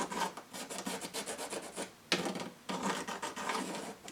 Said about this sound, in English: Just a pencil line round.